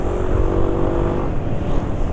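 A two-stroke motorcycle engine, running on Ultraline 2T oil with STP oil treatment, idles steadily up close, a smooth continuous hum.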